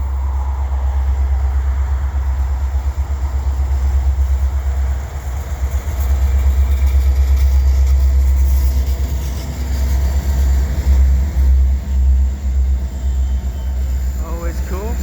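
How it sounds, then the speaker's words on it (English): A CN freight train led by a single ES44AC locomotive passes Lachine EXO station in winter, a heavy low rumble sustained throughout, with a person talking over it at points. "another CN train"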